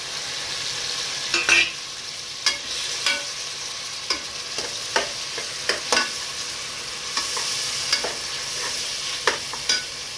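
Tomatoes frying in a pan for a kushka and potato fry dish, with a steady sizzle and a series of sharp scraping, clattering stirs at irregular intervals, fairly close.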